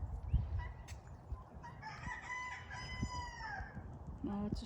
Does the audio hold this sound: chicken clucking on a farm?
yes